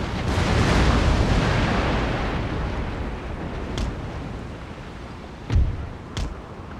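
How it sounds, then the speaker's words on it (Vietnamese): Cannon artillery in Napoleon Total War lets off a heavy rumbling salvo that slowly dies away, then a few separate booms follow, one sharp and loud near the end. "Loạt pháo này thì mày chết."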